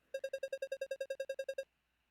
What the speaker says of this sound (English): Suddenly, your phone rings.